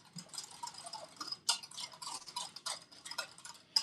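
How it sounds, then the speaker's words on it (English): Wire whisk stirring proofed yeast into liquid in a bowl while making cinnamon roll dough, a quick irregular run of light ticking scrapes and taps, close and fairly quiet, with no talking. "Now I'm just going to whisk it in till it's mostly dissolved."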